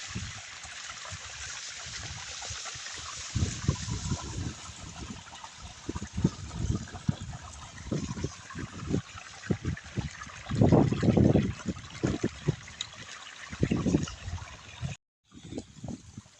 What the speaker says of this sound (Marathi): हे बघा उसाला पाणी चालू आहे मस्त पाणी पडत आहे